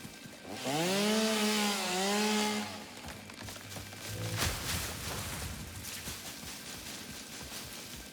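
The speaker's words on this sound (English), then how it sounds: "the chainsaw has two modes, single mode, area mode" A chainsaw revs in the video game Satisfactory, with a loud rising and falling engine whine for about two seconds, then a brief burst as it cuts wood, followed by a busy lower clatter of game sounds.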